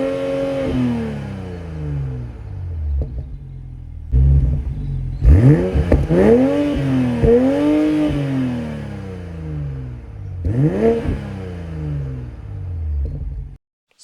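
A 2023 Toyota Supra's engine revs up several times, each rise and fall of pitch clear and close, separated by idle and brief pauses, with no talk.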